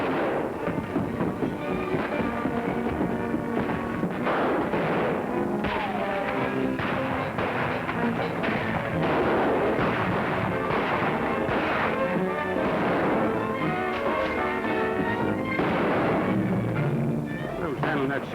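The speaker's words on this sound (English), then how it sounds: "Who's handling that shotgun and shooting wild?" Shotguns and guns fire wildly in a 1946 western film shootout: repeated muffled blasts and thuds at irregular intervals over about eighteen seconds, mixed with horse sounds and shouting voices.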